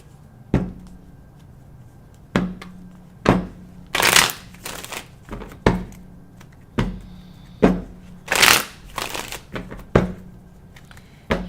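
A deck of tarot cards shuffled by hand during a weekly three-card reading, with about a dozen crisp riffles and taps arriving at a loose, uneven rhythm, close and clear against quiet room tone.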